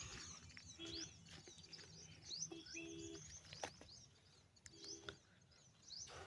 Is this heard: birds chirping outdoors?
yes